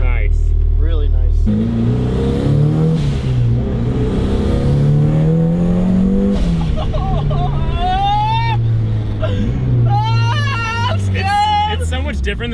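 Built high-compression turbocharged 1.6L Miata engine revving hard on a dyno, rising and falling pitch sweeps, loud and near, with people talking.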